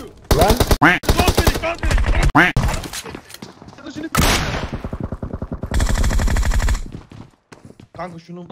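Loud, rapid bursts of automatic gunfire in the mobile shooter PUBG Mobile come in repeated volleys separated by short pauses, with players talking over the shots.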